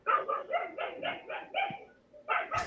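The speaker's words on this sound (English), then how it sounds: "There's a lot of dog barking." A dog barks excitedly in a repeated run of loud, close yips and barks, with a short pause before a final couple of sharper barks, heard indoors during a panel discussion.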